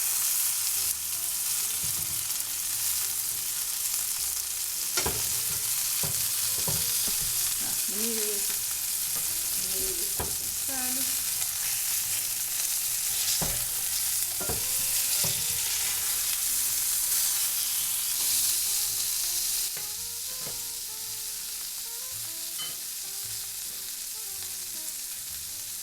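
Blackened lionfish fries in a hot pan with a loud, constant sizzle, broken by scattered clacks and scrapes of a utensil as the fillet is turned over.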